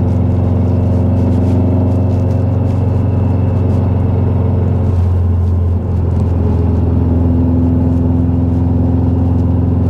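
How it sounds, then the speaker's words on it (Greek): A 2500cc Subaru Impreza GC8 tuned to Stage 3 with 500 horsepower idles and revs up close by. Its steady, loud engine rumble continues for the whole stretch with slight changes in pitch and no voices. "Πάντως ο ήχος είναι ο κλασικός, έτσι, σούπαρο ήχος."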